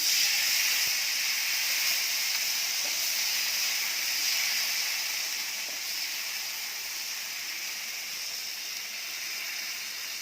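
Rice flour neer dosa batter sizzles on a hot tawa with a steady, soft, bright hiss that fades slightly over time, with no voices.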